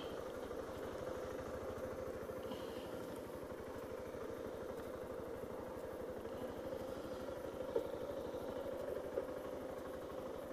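A Kawasaki KLR650 motorcycle engine idling with a rough, surging rhythm, a steady close mechanical thrum with light clatter running throughout and no voices.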